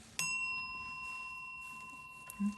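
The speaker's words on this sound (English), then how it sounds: "I'm going to go ahead and ring the bell for additional good juju" A single bright bell strike rings out once with a clear, sustained metallic tone that slowly decays, followed by a soft thud near the end, in a quiet room with no speech.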